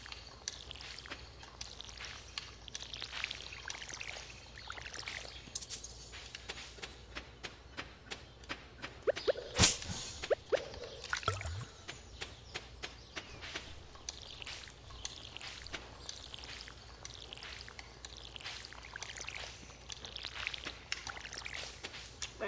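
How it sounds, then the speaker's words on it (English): In the video game Stardew Valley, a watering can pours water over plants in repeated quiet splashing bursts, with soft taps and a few sharper clicks scattered through. "I gotta water my plants."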